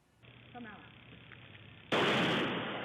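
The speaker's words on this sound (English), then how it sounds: "A single gunshot rang through this South Phoenix neighborhood Tuesday afternoon" A sudden, loud sharp bang of a single gunshot cuts through quiet background noise in a residential neighborhood, followed by a roaring blast that lingers and slowly fades.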